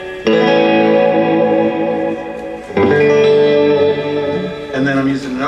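Surf guitar runs through an Echoplex-style solid-state echo pedal, with bright sustained chords and notes ringing out and trailing into echoing repeats; three strong strummed phrases sound loud and near.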